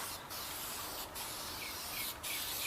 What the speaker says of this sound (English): So I just spray it on the joints, basically wherever I'm going to lay out the thing.